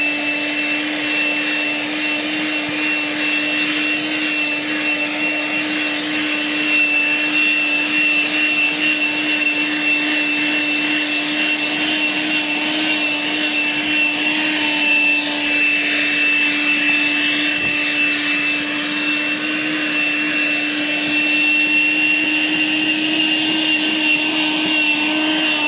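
A Milwaukee M12 cordless hand vacuum runs continuously with a loud, steady whining motor hum and airy suction rush, holding an even pitch throughout, close and alone without speech.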